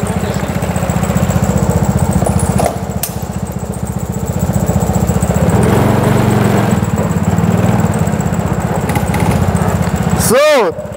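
A go-kart engine drones loud and steady with a throaty harmonic buzz, briefly dipping and then swelling as the kart gets rolling with the clutch fully engaged, before cutting off near the end.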